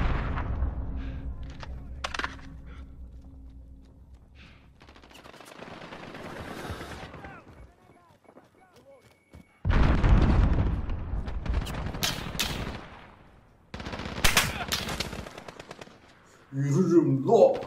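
Bursts of machine-gun fire and scattered gunshots crack out in Call of Duty Modern Warfare multiplayer, coming in irregular clusters, some distant and some close and loud, with quieter stretches in between.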